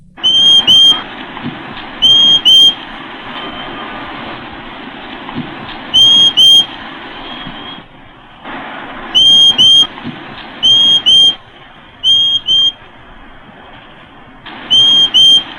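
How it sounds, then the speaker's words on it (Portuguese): Short, high, clear whistles of a euphonia bird repeat in brief paired bursts every few seconds over a soft, low background hum. "o assobio curto do gaturamo quebra o silêncio"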